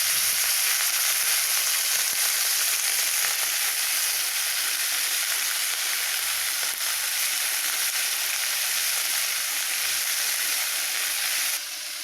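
Thinly sliced cabbage fries with onion and green chilli in a hot pan, giving a steady, loud, close sizzle that holds evenly throughout.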